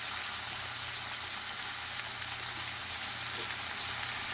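Boiled taro pieces frying in a pan with turmeric and salt for a Bengali taro-and-catla-fish-head dish, giving a steady, dense close sizzle that holds evenly throughout with no talking.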